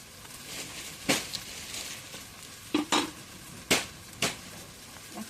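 Cumin paste and garlic paste frying in a pan, with a low steady sizzle broken by several sharp clinks and scrapes of a utensil stirring against the metal, close by.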